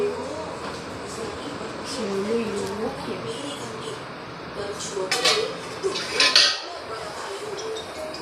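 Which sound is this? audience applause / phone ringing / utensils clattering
utensils clattering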